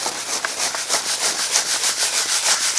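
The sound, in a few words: cemented gravel run through quarter-inch mesh screen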